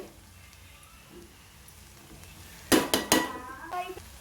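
Grated coconut being stirred into an ivy gourd fry in a pan, heard as a few loud, close scraping and clattering strokes of a spoon against the pan after a quiet stretch, followed by lighter scrapes.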